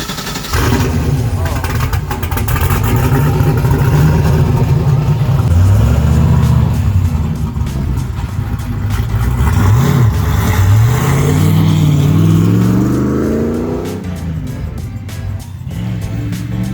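A Mazda RX-7 rotary engine runs loudly up close, revving up and down in smooth swells before settling back toward idle.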